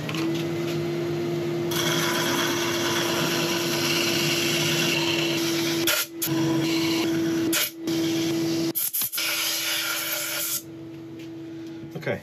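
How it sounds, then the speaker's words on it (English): A yew and honeycomb resin piece is sanded on a lathe, a continuous whirring hiss with a steady motor tone, briefly interrupted twice before tapering off quieter. "Right, I shall sand it"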